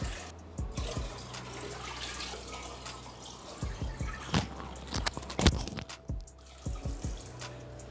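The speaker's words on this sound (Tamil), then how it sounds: "இப்போ இதில் தண்ணி வந்து ஹாஃப் டேங்க் தான் நம்ம இந்த தண்ணியும் ஃபில் பண்ணோம்" Water pours into a new aquarium tank being set up for a flowerhorn fish, filling it to about half: a close, continuous trickle and splash with scattered drips and small gurgles, and no talking.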